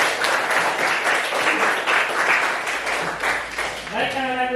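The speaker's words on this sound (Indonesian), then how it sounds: "Aplaus dulu untuk temannya." Classroom applause for a classmate after a group presentation, a dense wash of many hands clapping steadily throughout, with voices mixed in and a brief tonal sound near the end.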